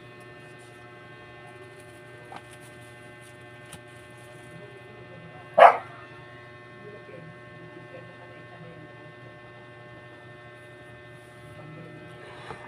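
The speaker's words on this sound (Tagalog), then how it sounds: "ang ingay ng aso namin" One loud dog bark cuts through a quiet room with a steady low hum, plus a few faint distant yips around it.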